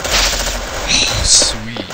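Rapid machine gun fire in the shooting game Marksman, loud and close in a dense two-second burst, with a voice talking over it.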